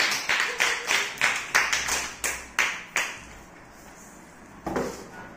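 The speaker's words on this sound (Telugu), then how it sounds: "క్లాప్స్ కొట్టాలి" Children in a classroom clap their hands in a run of about ten sharp, evenly spaced claps, then a short pause and one more burst of clapping near the end.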